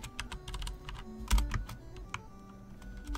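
Typing on a mechanical keyboard close to a microphone, a quick irregular run of sharp clicky keystrokes with a couple of heavier thuds, alone with no talk.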